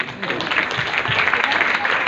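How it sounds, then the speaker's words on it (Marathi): An audience at a kids' dance competition applauds an artist, a close, steady wash of clapping that runs throughout, with voices mixed into the sound. "त्यांच्यासाठी आपण जरा टाळ्या वाजवूयात"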